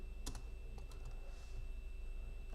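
Computer keyboard typing while modelling a PowerBook battery door in OpenSCAD: a short burst of a few quick keystrokes near the start, then sparse single taps over a steady low hum.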